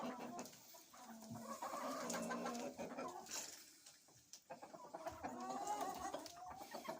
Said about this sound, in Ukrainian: Гомонять курочки.